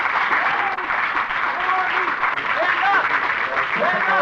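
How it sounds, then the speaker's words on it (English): An audience at a city council meeting claps in a sustained burst of applause, fairly loud and steady, with scattered voices and a few whoops mixed through the crowd. "They're clapping."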